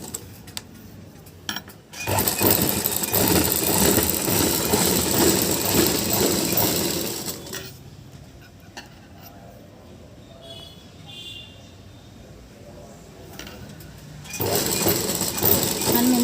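A sewing machine stitches the belts of a blouse in two runs of steady mechanical whirring, the first long and the second starting near the end, separated by quieter handling and faint background noise.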